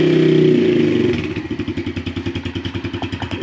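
A 2019 Yamaha TTR110 dirt bike engine fires up on a kickstart, a loud rev settling within a second into a steady, rapid single-cylinder idle thumping close by, with no talking.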